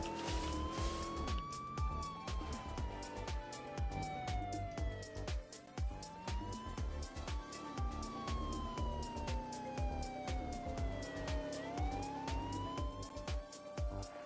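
A police car siren in the video game Car Crusher 2 wails continuously, sweeping up and down in long repeated cycles, loud and steady over rapid mechanical clicking and engine hum.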